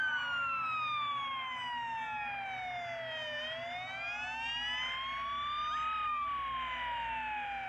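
An ambulance siren wails continuously, its pitch sweeping slowly down and back up in long cycles, fairly soft and steady, with a low rumble underneath.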